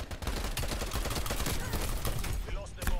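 TEC-9 pistol fire in a video game chatters in rapid, dense bursts of close shots, with other gunfire and game noise mixed in throughout.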